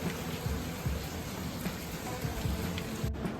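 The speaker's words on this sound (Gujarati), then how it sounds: "તો વરસાદ ચાલુ જ છે" Steady rain falls in a continuous, even hiss of drops on surfaces, with soft irregular patter underneath and no voices.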